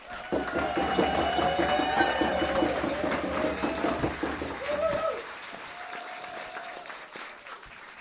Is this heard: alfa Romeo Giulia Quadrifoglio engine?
no